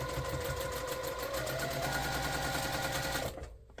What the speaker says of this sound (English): I'm going to bring all this over to the sewing machine and we'll get it sewn up together